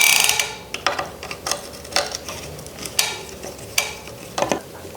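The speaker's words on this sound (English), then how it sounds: "just loose, and then we can pull the crank off" The non-drive-side crank of a bicycle crankset is worked loose and pulled off, giving a series of close metallic clicks, scrapes and ratchety knocks spread irregularly over several seconds, with no talking.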